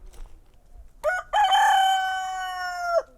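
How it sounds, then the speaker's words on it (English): A backyard homestead rooster crows once, a loud drawn-out call of about two seconds that rises, holds and drops off sharply, preceded by a brief clucking onset, with no talk over it. "Now y'all can start your day in style with a rooster crow."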